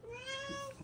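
A single drawn-out cat meow, clear and close, lasting under a second.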